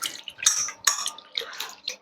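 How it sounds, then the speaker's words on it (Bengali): Water splashes and trickles as cut bamboo shoots are rinsed by hand, in several short bursts with brief pauses between, close and moderately loud with no talking. "এখন জল দিয়ে ধুয়ে নেব।"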